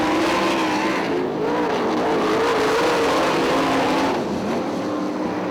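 Sprint cars race side by side on the dirt oval at Crystal Motor Speedway, a loud, continuous, high-revving engine roar that swells and wavers slightly in pitch as the cars pass without pause.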